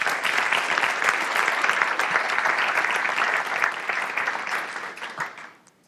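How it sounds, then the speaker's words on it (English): Sustained audience applause at a Cloud Software Association event fills the room loudly and evenly, holding steady for about five seconds before fading out at the end. "Can I give them a round of applause?"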